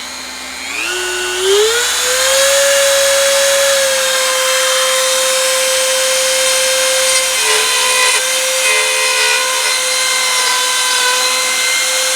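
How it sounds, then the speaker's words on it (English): A Dremel rotary tool with a router attachment spins up with a rising whine, then holds a loud, steady high-pitched buzz while cutting a channel during exterior wall repair, the tone dipping slightly as it bites into the material. "I'm going to use my Dremel, one of my favorite tools."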